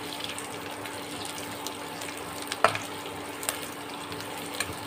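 Cashews and golden raisins fry in oil in a pan, giving a low, steady sizzle with a few small clicks and pops from stirring, all fairly quiet and with no one speaking.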